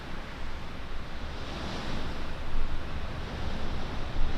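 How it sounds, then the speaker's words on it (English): Strong wind gusting outdoors during a storm, a steady broadband roar that swells and buffets the microphone, with no talking. "look at the wind that's picked up"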